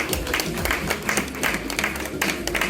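Audience applause at a Big Brother Naija prize presentation, a continuous wash of many hands clapping at fairly even loudness throughout, with some voices faintly mixed in.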